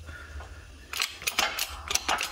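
A hydraulic press pushes a bushing into a Nissan 350Z control arm, giving a series of sharp creaks and clicks over about a second and a half after a quiet start, close and moderately loud.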